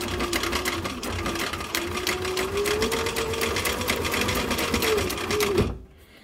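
A free-arm sewing machine stitches a leather belt pouch, its close, steady mechanical whir running continuously before stopping abruptly near the end.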